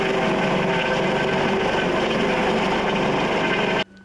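A military helicopter evacuates a wounded serviceman during a joint navy and border police exercise on the Danube; its rotor and engine roar holds loud and steady throughout, then cuts off abruptly near the end.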